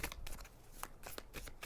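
A deck of tarot cards is shuffled up close, giving a soft, quiet run of riffling flutters and taps in an uneven rhythm.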